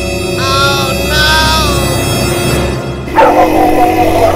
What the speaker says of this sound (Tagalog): Kinabol na naman ako ng aso.